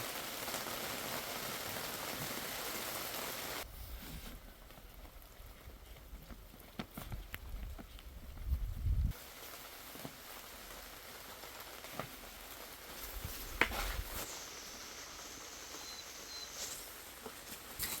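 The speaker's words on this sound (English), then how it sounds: "It's raining pretty good." Steady rain patters on a ShelterLogic shelter overhead, a dense wash of drops with a few louder knocks and taps scattered throughout.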